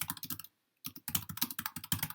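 Rapid typing on a computer keyboard, close and fairly quiet, with bursts of clicking keystrokes broken by a brief pause before the rhythm resumes.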